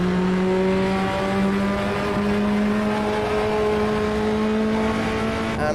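Race car engine in Automobilista 2 at the Riviera circuit, droning steadily at high revs through a tunnel with strong harmonic whine and reverberant echo, loud and continuous throughout.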